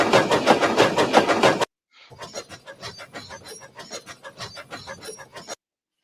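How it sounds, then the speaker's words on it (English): A medium-sized steam engine puffing sound effect: about a dozen rhythmic chuffs at a moderate level, close and even, following a short, loud, dense burst of sound at the start. "these are actually the medium-sized engine puffing sounds here"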